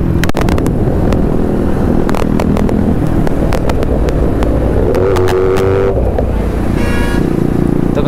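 A modified Kawasaki ZX-10R sportbike at a wheelie stunt session revs loudly nearby, with rising engine tones and sharp bursts over a busy background of traffic and other engines.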